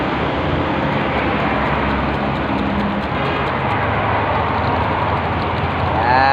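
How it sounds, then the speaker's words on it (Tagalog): Steady roadside traffic noise, a continuous loud wash of many vehicles passing close by without a break, with no clear talk over it. "Po, maraming sasakyan, no?"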